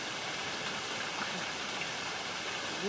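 A small waterfall at Turtle Falls in the Blue Mountains pours steadily into a pool, making a continuous, even rushing hiss with no pauses or voices.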